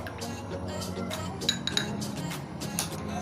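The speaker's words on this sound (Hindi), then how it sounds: "तो इसको चम्मच के साथ पहले मिक्स कर लेंगे, हल कर लेंगे।" A metal spoon stirring custard powder into milk clinks repeatedly against the inside of a glass or bowl, with quick bright taps over a soft background.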